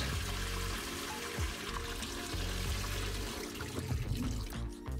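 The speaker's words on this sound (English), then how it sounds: "you can see the color of the water as I pour it out as well" Dirty water poured out of an ultrasonic cleaner used for bike parts, a steady close splashing gush with trickling and gurgling that continues loudly throughout.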